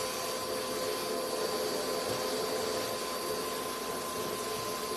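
A steady, loud vacuum cleaner roar runs without a break while cleaning up a cemented lead came stained glass panel, a constant broadband whoosh with a faint high whine, and nobody speaks.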